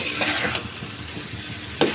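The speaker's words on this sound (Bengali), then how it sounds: "দেখো কচুর মুরগিটা কিন্তু একেবারে মশলার সাথে কষিয়ে নিচ্ছি" Taro stir-fried with spices in oil in a pan, a steady close sizzle with scraping stir strokes and a sharper clink of the utensil near the end.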